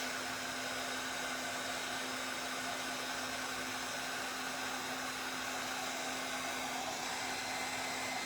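A hair dryer blows steadily on a freshly glued Christmas ornament made from a dollar-store pizza pan, a continuous close whooshing whine with a constant hum running unbroken throughout.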